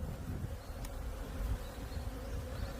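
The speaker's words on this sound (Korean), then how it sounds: "바닥에 벌이 떡이 돼 있죠" Honeybees massed on the floor of a beehive box hum in a dense, continuous low drone, steady and close, with no voices over it.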